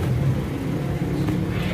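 A Kia Picanto engine idles low with the air conditioning on, a steady, close, low rumble with a faint whir, heard alone.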